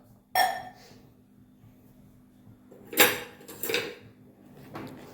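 Vegetables in water and salt are stirred in a small pan in a home kitchen, a few sharp scrapes and clinks of a spoon against metal spaced apart over quiet background.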